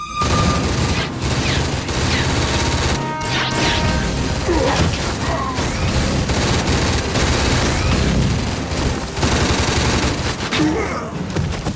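Automatic gunfire in a Stargate Atlantis combat scene, loud sustained bursts of rapid shots running nearly nonstop, with impacts, clanks and occasional breaks between volleys.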